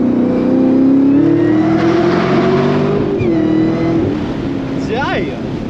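Chevrolet Camaro ZL1 accelerating along curvy roads, its engine a loud, steady drone from inside the car that rises and eases through the corners while a voice talks over it.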